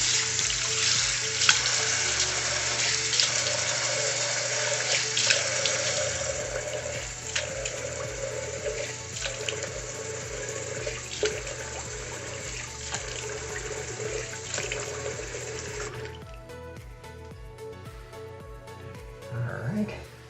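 A bathroom tap runs in a steady hiss while a head is wetted before shaving with a rotary shaver, splashing close by with someone talking over it; the water cuts off near the end.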